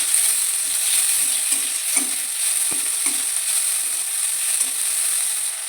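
Chicken and mashed potato fry in a pan while being stirred, a steady sizzle under a bright hiss, broken by soft repeated scraping strokes and one sharp knock of the spatula against the pan.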